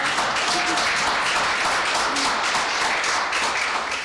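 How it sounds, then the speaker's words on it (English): An audience at a community press briefing in Avalon Gardens applauds a congresswoman, giving a loud, continuous wash of clapping that stays full and steady throughout. "let's round of applause for Ms. Kamler"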